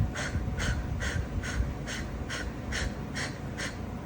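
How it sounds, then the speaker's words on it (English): Quick forceful exhalations through the nose or mouth during a guided relaxation, about nine sharp puffs in a steady, even rhythm, close and clear over a low background hum. "Close your eyes and breathe out"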